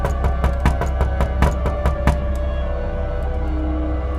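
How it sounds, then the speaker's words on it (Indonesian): Rapid knocking on a door as a sound effect in a mystery story podcast, about a dozen sharp, loud raps in quick succession that stop midway, leaving a low hum. "Ternyata selang beberapa menit terdengar suara ketukan itu lagi."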